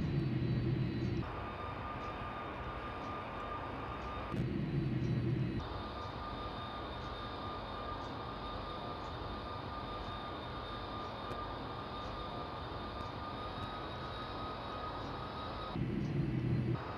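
Steady whine and roar of airliner jet engines in the PS2 flight game Jet de Go 2, a JAL airliner setting, constant and loud with a low rumble cutting in and out.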